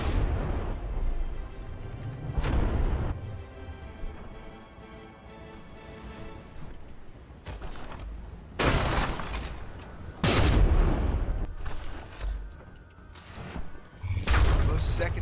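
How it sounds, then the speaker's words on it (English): Frigate secondary guns firing in the From The Depths naval combat game, several loud booming volleys in uneven bursts over a low rumbling battle backdrop. "Secondaries from the Frigate are firing away"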